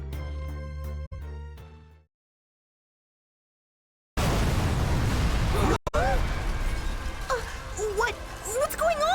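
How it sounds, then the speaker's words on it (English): Explosions and fiery blasts tear through a city in the Dragon Ball Z Kakarot video game, a loud dense rumble with sharp bursts after a stretch of silence, opening on a tonal game sound and continuing under voices. "An explosion in the city!"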